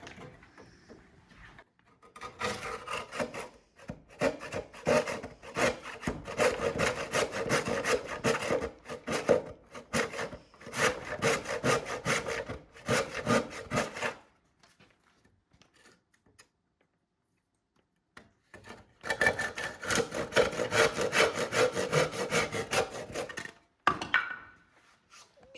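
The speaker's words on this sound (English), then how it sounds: "we have to use our hand saw to finish the cut" A hand saw finishes a cut through wood while building a staircase in an off-grid home, rasping in rapid back-and-forth strokes in two long bursts separated by a quiet pause, close and fairly loud.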